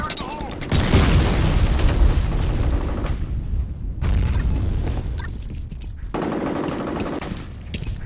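A grenade blast in the F.E.A.R. shooter game, with a heavy boom followed by rumbling gunfire and battle noise that swells and fades in waves, and a voice calling out in the mix.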